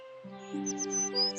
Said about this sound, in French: Au matin, Blanche-Neige fut réveillée par le chant des oiseaux.